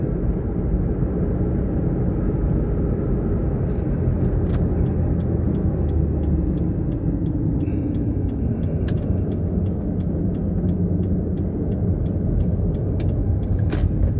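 Steady road rumble from a moving taxi, with a low droning hum from a worn wheel bearing and occasional faint clicks over continuous engine and tire noise.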